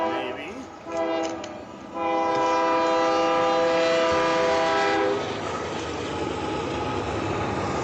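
A manifest freight train hauled by locomotives including an SD70ACE sounds its horn in two blasts, a short one then a long chord of about three seconds, followed by the loud rumble of the train rolling past close by.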